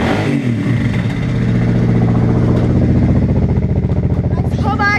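A motorbike engine that has not been started for a while runs loud and steady throughout, revving with a rough mid-range drone, while a voice talks faintly under it.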